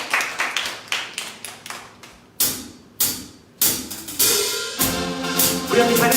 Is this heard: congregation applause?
yes